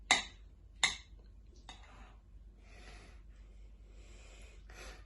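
Salad ingredients are mixed in a bowl, opening with two sharp clinks of utensil against the dish, followed by softer scraping and tossing sounds in a quiet room.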